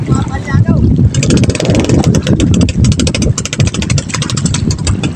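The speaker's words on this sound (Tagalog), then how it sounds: "Pumapalya yung makina niya." A fishing boat's engine misfires, chugging loudly and close with an uneven, stuttering pulse, buffeted by wind noise and with voices around it.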